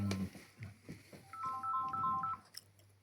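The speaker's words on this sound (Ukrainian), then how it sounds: "О, дзвони хтось" A phone ringtone plays a short repeated electronic melody of bright tones, heard at moderate volume indoors after some brief murmuring and background noise.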